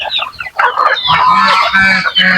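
Native chickens in a range pen cluck and crow loudly and close, overlapping calls rising and falling in quick succession with no talk.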